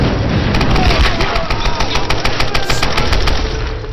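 Loud, rapid machine gun fire in the Tomb Raider Definitive video game, a steady burst of close shots lasting several seconds with booming undertones and impacts mixed in.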